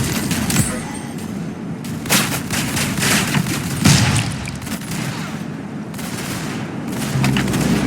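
Rapid, loud automatic shotgun fire in a first-person shooter, with dense overlapping blasts and booming impacts that run almost continuously through a chaotic firefight.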